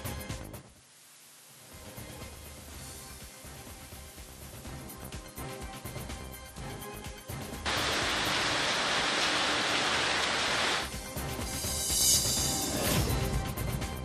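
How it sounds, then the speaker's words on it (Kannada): Continuous rain in Mandya, Karnataka, during Cyclone Fengal, swelling louder midway, a broad steady wash of falling water with occasional sharp knocks. "ಜಿಲ್ಲೆಯ ಹಲವೆಡೆ ಮೋಡ ಕವಿದ ವಾತಾವರಣ ಹಾಗೆ ಜಿಟಿ ಮಳೆಯಾಗ್ತಾ ಇದ್ದು"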